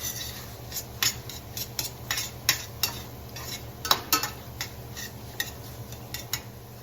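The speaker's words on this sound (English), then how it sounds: "stir it in." Utensil scraping and clinking against a bowl while finely diced red onion is stirred into a gyro egg roll filling, a series of irregular close taps and scrapes, with no talk.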